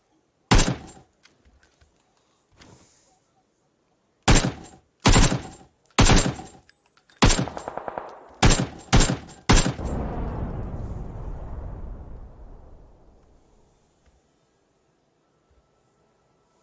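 Gunfire in a shooter video game: a loud isolated shot, then a quick burst of heavy shots that ends in a long fading rumble, followed by near silence.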